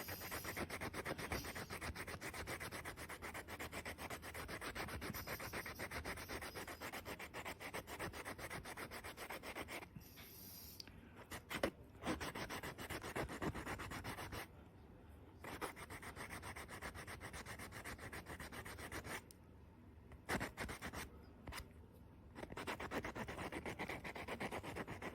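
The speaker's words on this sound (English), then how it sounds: "I'm going to sand this edge too." Steady back-and-forth sanding on the edge of a polymer clay ring gives a close, dry rubbing scratch that goes on for a long time, with a few brief pauses between bursts of strokes and no talking.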